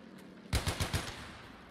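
Gunfire from a weapon in the video game Battlefield 1, a quick burst of four sharp, punchy shots in rapid succession, fairly close and standing out over quiet background game ambience.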